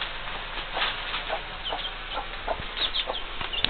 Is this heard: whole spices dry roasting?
no